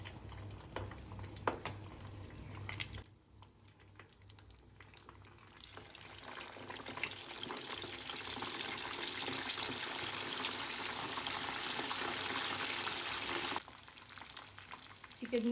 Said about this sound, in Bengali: চিকেনগুলোকে এখন আমি আরেকবার ডিপ ফ্রাই করে নেব।